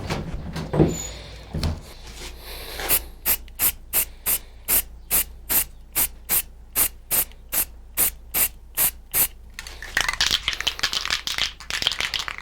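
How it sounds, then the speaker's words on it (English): Rust-Oleum automotive primer hissing from a spray can in a wood sign-carving shop, laid down in a steady series of about twenty short, evenly spaced bursts, with a longer rough hiss before and after. "Now when you're spraying this layout stuff, guys, oh, by the way, we're using the primer."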